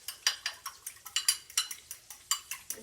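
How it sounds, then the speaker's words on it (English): An egg is beaten in a bowl with quick, regular clicking strokes, about a dozen crisp taps in a fast, even rhythm heard close up. "I'm going to beat that egg up."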